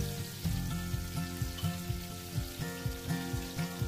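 Mustard seeds splutter and crackle in hot oil for a tempering, with a quick run of sharp, close pops over a continuous frying sizzle.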